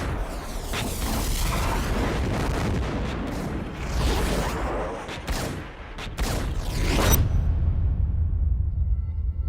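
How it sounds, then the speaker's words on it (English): Bullets whiz past amid dense gunfire in a film action scene from The Matrix, a loud continuous barrage of shots, impacts and sharp whooshes that drops away near the end. "notice the distinct sound of bullets flying past"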